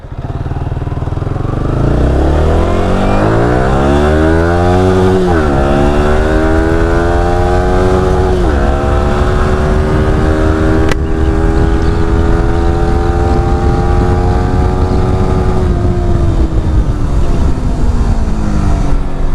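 A Yamaha R15 V4 with an aftermarket exhaust is revved hard to the limiter, its loud, close engine note sweeping up and down in repeated climbs and holding near the top for a long stretch.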